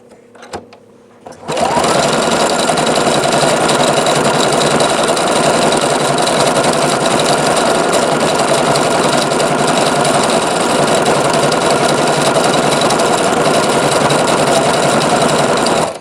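A Juki HZL-F300 sewing machine stitching metallic thread starts after a brief quiet moment and runs at a steady, loud, fast whirring rattle, sustained without pause to the end.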